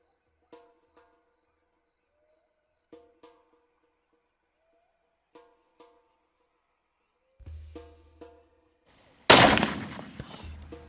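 A rifle shot fired during a plains game hunt on safari, a single loud sharp crack with a short decaying tail, preceded by quiet sparse ticks and faint low rumble.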